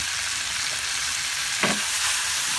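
Onions frying in a pan with browned duck give a steady broadband sizzle, with one brief stir or scrape near the middle and no voices.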